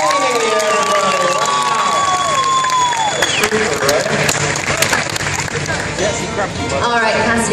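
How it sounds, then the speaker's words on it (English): Audience applause and cheering from a live Fear Factor-style stunt show, a dense crowd roar with clapping and shouts, while a presenter talks over it and a high whistle-like tone sweeps near the start. "Huge round of applause for Cassidy"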